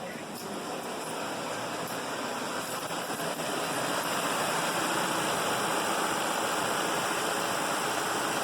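A 4.4-litre Land Rover V8 idles steadily after a multiple-cylinder misfire repair, giving a continuous, even broadband rumble and hiss up close with no talking over it.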